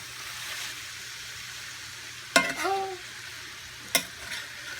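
Beef, broccoli and onion frying in a pan hiss with a steady low sizzle while they are stirred, broken by two sharp scraping clatters of the utensil; a voice briefly murmurs between them.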